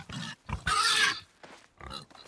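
Pig grunts and oinks in the medieval survival game Medieval Dynasty, several short snorting bursts in a row with one longer loud squeal in the middle, close and fairly loud, no talking.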